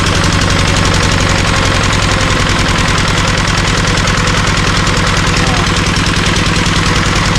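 Diesel engine powering an irrigation water pump runs steadily and loudly at low throttle, a continuous rhythmic chugging knock close by throughout, with no speech.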